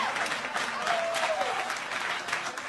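Loud comedy-show audience applause, a dense steady clapping that fills the whole moment with no voices standing out.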